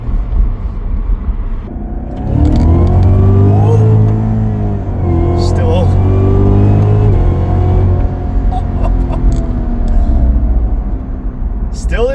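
A tuned 640-horsepower Cadillac CTS-V accelerates hard with a loud, rising engine drone and gear changes, heard from inside the car. Tire noise and faint ticks of kicked-up rocks sit under the engine, with a person talking.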